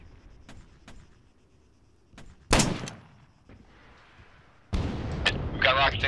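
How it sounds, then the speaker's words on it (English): Incoming rockets burst in the Arma 3 video game: two loud, sharp blasts a couple of seconds apart, the second trailing into a sustained rumble, with faint thuds and quiet background noise between them. "We've got rockets incoming."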